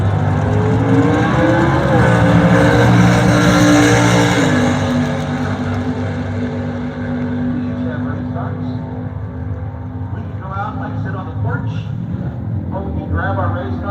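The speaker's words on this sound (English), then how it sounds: "Grab our race cars and go drag racing." Super stock muscle cars at a drag strip, a loud sustained engine roar that climbs in pitch and then fades as the cars pull away, with a track announcer talking over it.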